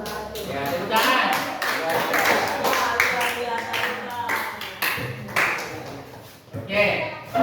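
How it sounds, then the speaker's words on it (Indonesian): A classroom audience claps after a group presentation, with scattered, uneven claps and taps of moderate loudness that come in bursts with short pauses. "Ya, tepuk tangan."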